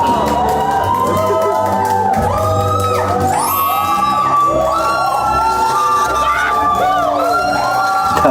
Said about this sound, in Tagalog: Daming sumisigaw eh.